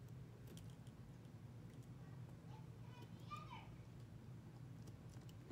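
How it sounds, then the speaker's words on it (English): Children play outdoors beyond an open window, their distant shouts and squeals rising faintly over a low steady room hum, with a few soft clicks nearby. "Sorry for the noises in the background. I have my window open, so it's kids playing."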